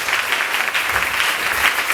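A church congregation claps and cheers in praise of the Lord, a steady wash of applause with dense rapid hand claps throughout.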